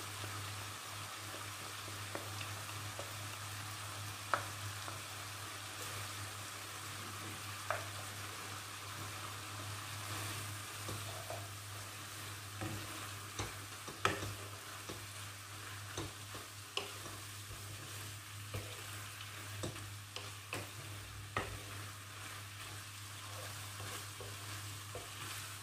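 Onions stir-fry in a pan, making a low, constant frying hiss broken by frequent scattered clicks and spatula taps over a long stretch. The sound is faint and sits under a steady background hum.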